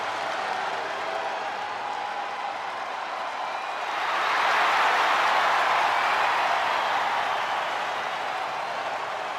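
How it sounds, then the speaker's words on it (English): Crowd noise in the WWE 2K25 wrestling video game, a steady loud roar of cheering and applause that swells midway and holds to the end, with no talk over it. "The crowd on their feet."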